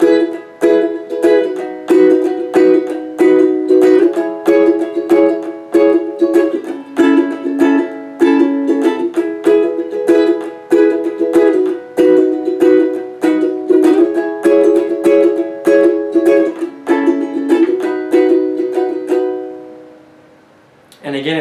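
Ukulele playing a strumming pattern, a brisk down-down-up rhythm of bright chords strummed steadily and close up for about twenty seconds before stopping abruptly.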